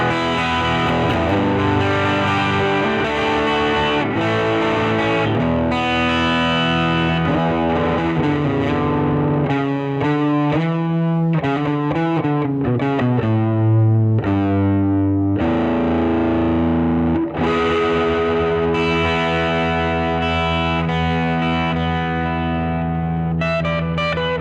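An electric guitar runs through an Earthquaker Devices Special Cranker amp-style drive pedal with the tone knob at its lowest, giving a dark, distorted tone. It plays sustained chords, then busier riffing and ringing notes, continuously and loudly with no voices.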